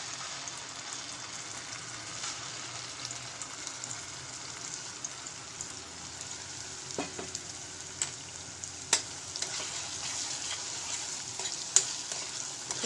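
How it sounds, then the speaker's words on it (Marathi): Ground spice paste (vatan) for katachi aamti frying in hot oil, stirred: a continuous soft sizzle with scattered crackles and spoon clinks throughout. "तेल तापल्यावर आपण त्याच्यात हे वाटण घालूया।"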